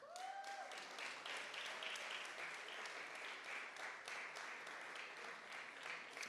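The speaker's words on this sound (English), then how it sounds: "Round of applause for Legacy Sound." Sustained applause from an audience at an innovation and entrepreneurship awards night, a dense steady wash of many hands clapping that runs evenly throughout, moderately distant.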